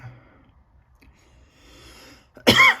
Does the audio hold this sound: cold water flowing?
no